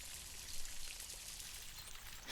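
Water pours and trickles steadily down the Generalife water stairway, a stone conduit fed by the Acequia Real. The flow makes a continuous close splashing rush with a brief louder surge near the end.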